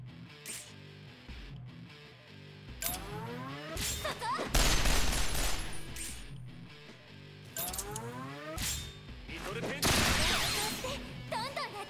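Rapid machine-gun bursts and impacts from battle combat in the Resonance of Fate video game, arriving in several loud bursts with short gaps between them, layered over game music and effects.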